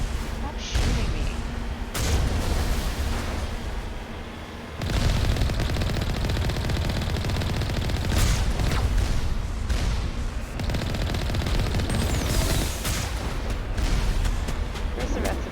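Sustained enemy gunfire in the Mass Effect video game, dense rattling bursts and blasts stretching through the whole stretch with brief dips, loud and continuous.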